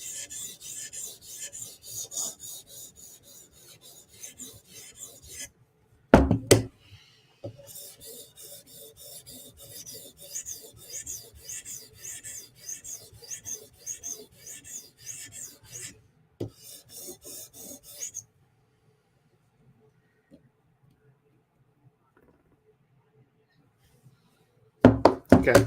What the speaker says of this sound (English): This is all we need is 400 grit.